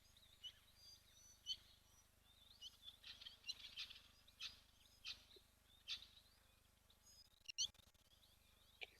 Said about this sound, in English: these are grey-headed sparrows